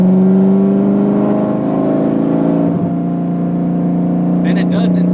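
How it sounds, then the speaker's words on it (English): A 2007 Chevrolet Corvette C6 Z06 engine drones loudly and steadily, a deep close rumble that dips briefly before a few faint high ticks near the end. "it has this crazy loud engine, and it has these racing slicks on it"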